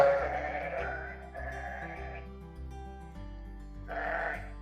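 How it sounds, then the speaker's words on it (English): Sheep bleat in a barn in a few drawn-out, wavering calls, with a low steady hum running underneath and a fresh burst of bleating near the end. "Wow. Sheep. Let's just listen to them."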